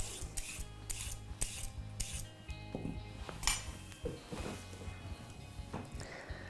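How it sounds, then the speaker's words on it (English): A peeler scraping along raw carrots in a kitchen gives rough, rasping strokes in short bursts, with occasional light clinks, close and fairly loud. "Peel a few carrots, keep those scraps for your compost or your pet rabbit."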